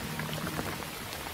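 Heavy rain downpour over hikers' camp, a dense, even hiss of drops pattering on surfaces, loud and unbroken throughout.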